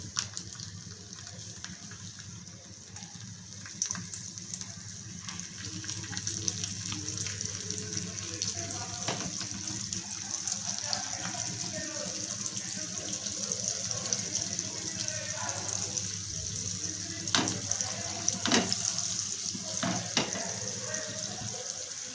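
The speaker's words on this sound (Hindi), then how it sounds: "इथे तेल गरम करून घेतलेले आहे तव्यामध्ये, त्याच्यावरती आपण असं मांदेली सोडून घ्यायचे" Mandeli fish coated in semolina sizzling in hot oil on a flat pan, a steady bright hiss with scattered crackles and pops, close and continuous, while a person talks quietly.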